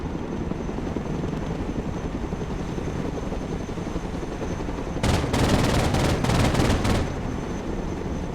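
A machine gun firing from a helicopter in the war video game Broken Arrow, with a steady rotor drone throughout and a roughly two-second stretch of rapid, loud bursts of automatic fire near the end.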